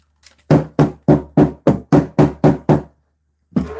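A hand drum is struck in a run of nine sharp, evenly spaced hits with short dry decays, close and loud, then a pause and one more hit at the end, sounding somewhat dull and off.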